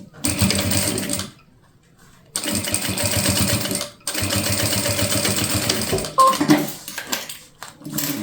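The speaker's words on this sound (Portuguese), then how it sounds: "Então, aqui eu venho e continuo a minha costura." A domestic sewing machine stitches fabric for a toiletry bag in three long runs, its rapid needle chatter loud and close, stopping briefly between runs before a few clinks of handling at the end.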